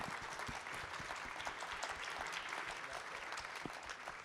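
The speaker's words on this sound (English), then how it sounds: "Let's give our panelists a round of applause." Sustained applause from a conference audience for a panel of speakers, a dense steady wash of many hands clapping throughout, fairly even in loudness from start to finish.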